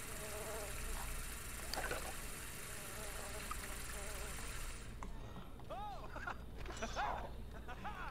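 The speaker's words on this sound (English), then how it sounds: "I heard that sound of flies buzzing" Flies buzz in The Sims 2 video game, a continuous droning hum heard faintly throughout beneath steady background noise.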